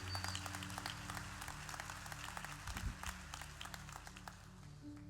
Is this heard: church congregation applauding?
yes